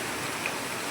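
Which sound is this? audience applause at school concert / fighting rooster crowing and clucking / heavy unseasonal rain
heavy unseasonal rain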